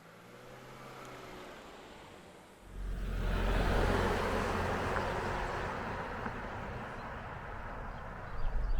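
A 2022 Infiniti QX50 Essential AWD pulls away on the road. After a quiet start, a broad engine and road roar rises abruptly and holds steady and loud inside the cabin.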